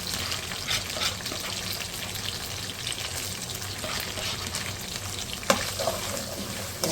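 Curry leaves and chopped garlic frying in hot oil, a continuous bright sizzle with occasional stirring clinks, close and steady with no talking.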